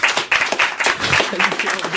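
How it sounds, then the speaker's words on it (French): Studio audience applause fills a French television talk show, a dense, steady wash of clapping with some voices mixed in and no clear gaps. "On vous applaudit, on vous remercie, Paul Vermus."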